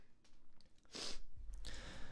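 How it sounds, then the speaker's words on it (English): A single sneeze bursts out close to the microphone after a short intake of breath, followed by a sniff and a quiet rustle, with no talking. "I need to sneeze and I'm too lazy to edit."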